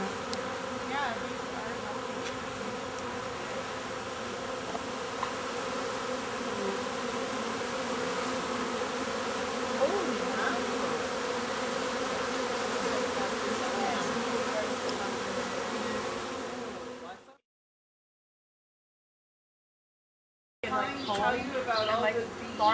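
A honeybee swarm in a backyard hive area hums with a dense, continuous buzz of many bees close by, steady for most of the stretch, then a sudden silence before the buzzing returns with faint voices.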